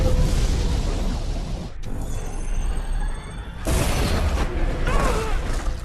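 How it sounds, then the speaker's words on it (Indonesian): A deep, roaring blast from a water bomb in a film rumbles continuously, drops away briefly, then surges back, loud and dense like a large explosion. "Ledakan yang dihasilkan"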